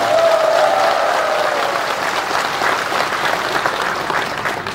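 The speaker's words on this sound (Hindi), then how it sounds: "एक बार आप लोग जोर से ताली बजा दीजिए" A crowd at a large outdoor political rally claps loudly and steadily, the applause filling the space without pause and easing off slightly toward the end.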